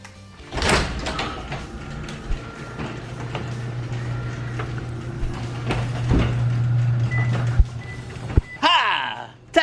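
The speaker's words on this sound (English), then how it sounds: "we're gonna put the garage door open and see if she to kind of surprise her when the door opens" A garage door opens with a long mechanical motor hum and rattling, punctuated by clunks and a sharp bang as it stops, with people talking around it.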